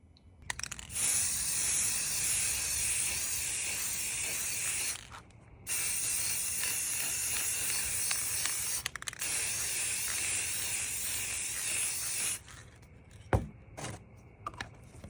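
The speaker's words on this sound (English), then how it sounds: "spray some of this just to make it shine a little bit and protect it from the sun" An aerosol can of protective shine spray sprays in long continuous hissing bursts, pausing briefly between them, followed by a few faint clicks and handling sounds at the end.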